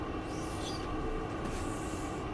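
Simulated NYC Subway R160B Siemens train on the N line to Coney Island, rumbling steadily on rails in the OpenBVE game, with continuous broadband wheel and track noise and no speech.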